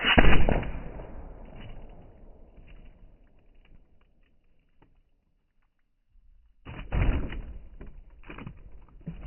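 An airgun slug strikes a second, fairly full plastic bottle: a sharp loud impact that rings and fades over a few seconds, then silence, then another burst of impact noise near the end.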